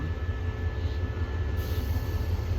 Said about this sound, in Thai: เป็นด่วนพิเศษอุตราวิถีเนาะ จากสถานีเชียงใหม่นะครับ มุ่งนาสู่กรุงเทพอภิวัต